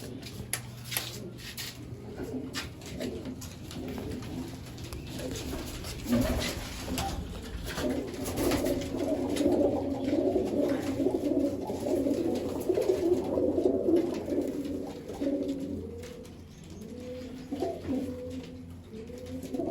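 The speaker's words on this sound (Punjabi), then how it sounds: "ਇਹ ਬਾਈ ਸਾਰੇ ਕਬੂਤਰ ਸੇਲ ਕਰਨੇ ਆ" Pigeons offered for sale coo steadily in a loft, their low rolling calls layered and overlapping for about twenty seconds, swelling in the middle and easing toward the end, with no talk over them.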